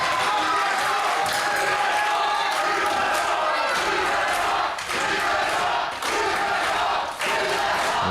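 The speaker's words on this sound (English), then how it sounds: "Crowd absolutely loving it." Loud wrestling crowd at an Aftershock Pro Wrestling show roars and cheers continuously, with dense voices filling the hall and brief dips in volume.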